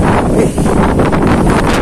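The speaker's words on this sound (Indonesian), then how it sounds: "Angin kencang, kencang sekali." A strong gale blows across a seaside cliff where someone is fishing, roaring continuously and buffeting the microphone with a dense, loud rush and no pauses.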